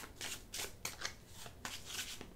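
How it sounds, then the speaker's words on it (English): A deck of cards from the Rococo board game is shuffled, giving several quick riffling bursts in a loose rhythm, close and crisp with no voices. "You always shuffle all of her cards before the start of a new round"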